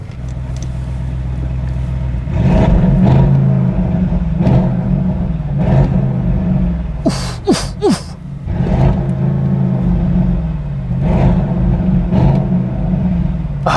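An Audi RS6 C8 engine revs hard and loud, a sustained roar with repeated throttle blips and brief dips, heard close with no talk over it.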